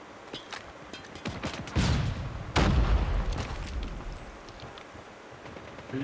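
Sniper rifle gunfire in the mobile shooter game Call of Duty Mobile: a string of quick sharp shots followed by two heavier booming blasts that ring out and fade, with no voices.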